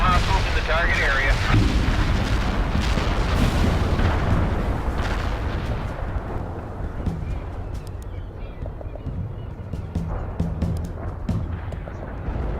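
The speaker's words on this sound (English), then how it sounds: "Artillery barrage turned the target area into dust." Artillery barrage explosions in the video game World in Conflict: a dense, loud, continuous rumble of booms that is strongest early and eases off a little, with radio-style voices talking over it.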